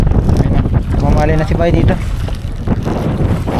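Strong wind buffeting the microphone at the Baseco breakwater on Manila Bay, a loud continuous rumble under a person talking.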